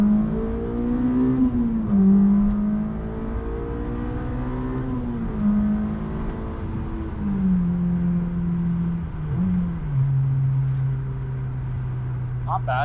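A 2008 Honda S2000 accelerating hard through a pull on a drive, the engine note rising steadily in pitch, dropping briefly at shifts and climbing again, loud and close inside the car.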